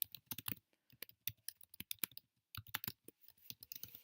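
Typing on a computer keyboard: quiet, close key clicks in irregular quick bursts with short pauses, alone with no talk.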